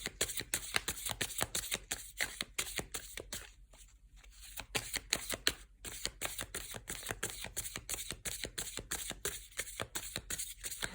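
Tarot cards riffled and shuffled for a long, steady stretch, a dense run of crisp flicks and slaps close up with a brief lull partway through, and no voices.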